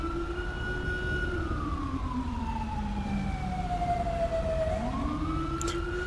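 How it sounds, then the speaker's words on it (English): A wailing ambulance siren in GTA 5 rises and falls in long sweeping tones as the vehicle arrives, fairly loud and steady over a low engine rumble, with no talking. "here comes the ambulance actually right here"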